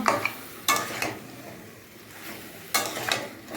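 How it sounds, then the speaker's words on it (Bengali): Meat is stirred and sautéed in a pan with two loud bursts of scraping and sizzle, then quieter frying in between, close by. "ভালো করে কষাতে হবে মাংসটাকে"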